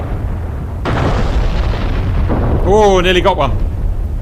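Artillery shells bursting in the combat simulator DCS World, deep booming rumbles rolling continuously under a voice that cuts in near the end.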